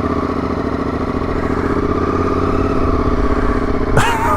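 A motorcycle at a bosozoku-style ride-out revs for a wheelie, its engine roaring loud and close in a steady drone, with a sharp clatter near the end.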